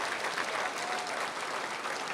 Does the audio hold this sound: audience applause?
yes